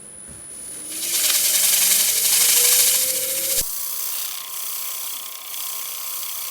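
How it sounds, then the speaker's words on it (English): A turned punky poplar bowl spinning on a wood lathe and being polished with a handful of wood shavings: a rising, rough hissing rub over the lathe's faint whine, then an abrupt stop leaving a quieter hum. "I'll give it a brief polish with some shavings"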